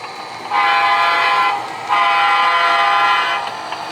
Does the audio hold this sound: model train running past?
yes